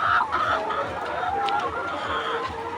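Chickens on a poultry farm cluck in a repeated, rhythmic pattern at moderate distance, with a few sharper calls over a steady background.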